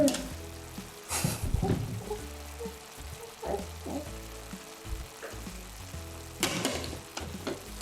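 Toy-kitchen play with potato fries: a spatula scrapes and stirs in a pan, irregular clattering strokes with a light sizzling hiss underneath, loud taps near the start and end.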